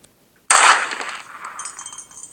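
A gun fires in the Granny horror video game, a sharp loud burst followed by a ringing, clattering decay that trails off over about two seconds, heard alone.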